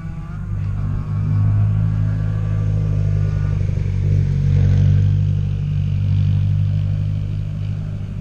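A Subaru STI track car making about 500 wheel horsepower rumbles nearby at a Gridlife fall circuit event, its engine note a loud, steady low drone that swells and eases as it revs.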